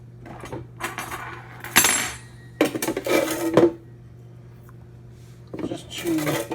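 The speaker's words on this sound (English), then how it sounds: "Stir this up." A spoon stirs active dry yeast and sugar into water in a bowl, giving bursts of close clinking and scraping against the dish separated by short pauses, with someone talking in between.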